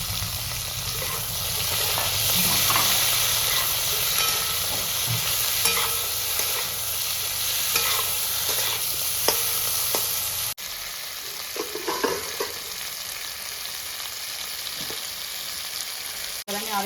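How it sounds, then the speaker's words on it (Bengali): Tomatoes hit a hot pan of frying potato, okra and morola fish, giving a steady close sizzle with brisk stirring throughout. The frying grows noticeably quieter partway through, with only occasional scrapes afterward and no voices. "এবার দিয়ে দিচ্ছি আমি টমেটোগুলো।"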